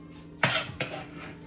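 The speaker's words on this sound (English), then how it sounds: "And put all that into our mixing bowl." Chopped filling ingredients for gozleme, a savoury thin bread, tipped into a mixing bowl: two quick clattering thumps about a third of a second apart, close and fairly soft against a quiet kitchen background.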